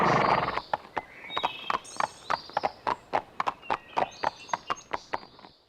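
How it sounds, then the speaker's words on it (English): Horse hooves clip-clop in a steady, even walking rhythm while riding a trail in the PS2 game Barbie Horse Adventures: Wild Horse Rescue, with clear close hoofbeats and faint game chimes over a soft background. "press the triangle button to mount your horse and start riding the trails"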